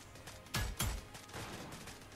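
Gunfire in the mobile battle royale game New State Mobile: two loud, sharp shots close together, then a string of fainter pops against low background noise.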